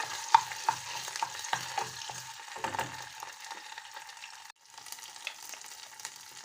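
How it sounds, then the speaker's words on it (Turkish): Tomato paste fries in oil in a pan, a continuous close sizzle broken by scraping stirs and small taps of the spoon, with a brief dropout before the frying resumes. "Şöyle dolu dolu domates salçası salçamızı biraz kavuralım"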